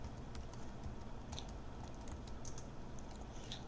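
Fingers type a password on a computer keyboard, with scattered irregular key clicks and a louder tap near the end, faint against a steady background hum.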